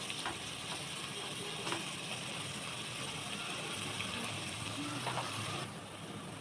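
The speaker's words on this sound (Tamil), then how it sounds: "வெங்காயம் நல்லா வதங்கிடுச்சு பாருங்கள்" Onions sizzle softly and evenly in a pan for mushroom biryani, a quiet continuous hiss with a few faint clinks of stirring.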